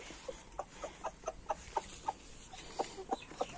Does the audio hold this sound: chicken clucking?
yes